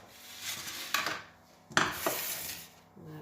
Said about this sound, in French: maintenant je vais couper ma boule de mozzarella